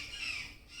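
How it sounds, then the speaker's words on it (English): A bird squawks once, a brief, faint, harsh call outdoors beside a car being repaired, against quiet background noise. "Excuse the birds."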